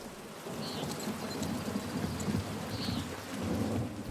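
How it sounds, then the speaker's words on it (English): Steady rain with rumbling thunder in the video game Pentiment, a constant wash of rainfall with low rolls swelling underneath and faint tonal game sounds above. "I hope the rain lets up for you soon"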